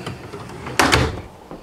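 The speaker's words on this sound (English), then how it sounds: "Even have a pull-out drawer for your keyboard." A keyboard drawer at a computer station inside a 2005 Holiday Rambler Presidential fifth-wheel RV slides out with a short, close scraping rattle that lasts about a third of a second, followed by a faint knock.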